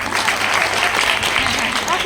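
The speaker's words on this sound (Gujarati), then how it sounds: "એકવાર જોરદાર તાળીઓથી સુરભીને વધાવો" Loud, dense applause from a women's get-together in a Gujarati village, many hands clapping together in a steady burst that fills the room.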